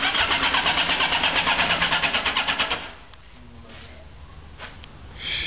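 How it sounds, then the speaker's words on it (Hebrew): Motorcycle engine on a streetfighter bike cranking and catching: a loud, rapid pulsing chug for about three seconds, then it cuts out to quiet background before another brief burst at the end. "איך שומעים את הקרבורטור הזה?"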